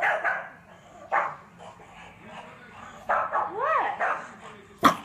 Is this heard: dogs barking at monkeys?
yes